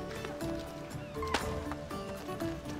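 Horse hooves clop at a steady trotting rhythm in Assassin's Creed Odyssey, fairly quiet and mixed with faint game ambience, with no one speaking.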